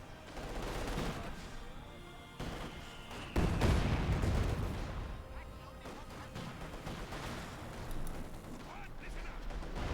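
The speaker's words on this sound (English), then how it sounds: "Mortar fire there" Heavy mortar fire in a Company of Heroes 2 match, with several dull blasts and crashing impacts, the biggest one midway, set among steady battlefield rumble and a commentator talking over it.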